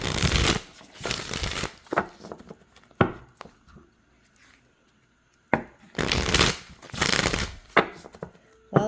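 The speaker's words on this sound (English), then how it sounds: "While I was doing the pre-shuffle," Cards being shuffled in several rapid riffling bursts, each followed by soft taps, with quiet pauses in between; close and crisp.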